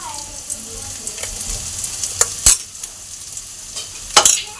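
Garlic and ginger paste sautéing in a pan for an egg chicken tarka, a steady close sizzle broken by a few sharp clinks of a spoon scraping the pan, with no talking.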